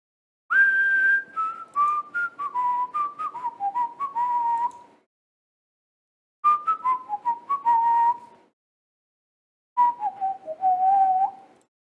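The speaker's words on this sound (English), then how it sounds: "There's songs that are just whistling that are up there" A whistled song plays in three separate bursts, each a run of clear melodic notes stepping downward, bright and up front, with silent gaps between the phrases.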